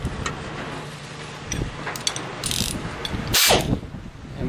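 A bolt is tightened during assembly of a tilting wind turbine: a few sharp mechanical ratcheting clicks and short metallic bursts, close and with no voices.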